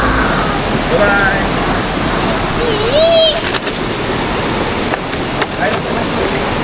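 A river flows with a loud, continuous rushing wash close by, and people talk over it throughout.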